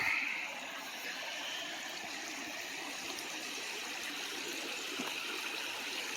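A creek swollen to about average height after a decent rain flows steadily with a broad, even rushing and gurgling, close by and uninterrupted, with no voices.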